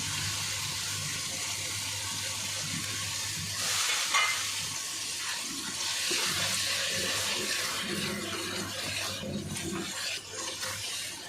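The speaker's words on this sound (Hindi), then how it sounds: "थोड़ा सा इसमें पानी डालूंगी ताकि मसाले हमारे जले नहीं" Water is poured into a hot clay kadhai holding coriander, salt and other spices for an aloo anday curry. A steady splashing hiss continues throughout alongside sizzling, and the sound is close up, with no talking.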